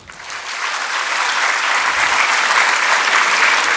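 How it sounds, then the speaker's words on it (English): Audience applause at a national conference of CA students during an inauguration ceremony, building quickly into loud, dense clapping from a large hall crowd that holds steady throughout. "Would you clap for yourself?"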